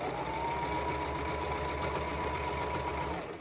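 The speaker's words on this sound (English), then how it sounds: "maybe I could just sew straight over all of them" A sewing machine stitches over pins with a steady, even mechanical whir and rapid needle rhythm, close and continuous throughout.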